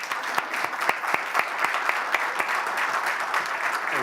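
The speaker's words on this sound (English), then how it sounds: "Let's give our panel a round of applause." An audience at a city citizens academy evening claps steadily for a panel, a dense, sustained round of applause filling the room with no speech over it.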